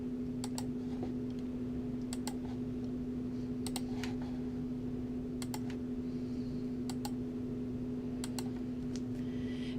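Computer mouse clicks while measuring a path in ArcGIS, sharp paired clicks recurring every second or so, close and distinct over a steady electrical hum.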